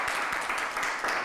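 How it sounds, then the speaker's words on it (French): Audience applause at a talk and performance featuring inanga music, a steady, dense wash of clapping filling the short moment without any voices. "j'aimerais qu'on applaudisse encore une fois pour ça."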